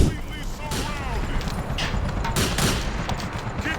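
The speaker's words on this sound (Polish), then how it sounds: "były strzały. Słyszeliście?" Rapid bursts of gunfire in the video game GTA 4 crackle over a busy game soundscape, several close shots overlapping with distant echoing reports, while a voice is heard talking.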